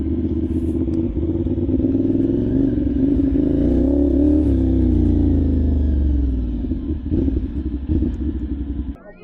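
Close, steady engine rumble of a Kawasaki 450NK motorcycle fitted with a slip-on exhaust, idling and swelling briefly with throttle in a garage, sustained throughout and cutting off at the end.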